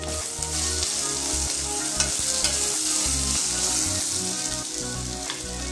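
Homemade kala masala and salt frying in a pan, a constant close sizzle with a rhythmic low scraping of the spoon stirring through it, with no voices.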